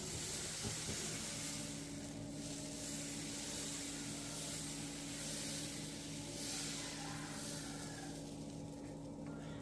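Dosa batter hitting a hot tawa on a stove for a diet dinner, giving a steady broadband sizzle and hiss that runs loud and unbroken throughout, with a low hum underneath and no talking.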